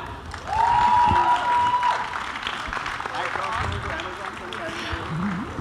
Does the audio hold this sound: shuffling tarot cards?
no